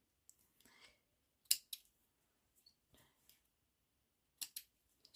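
Scissors snip threads off a sewn fabric piece in a series of short, sharp, close cuts, irregularly spaced with quiet gaps between them and no talking.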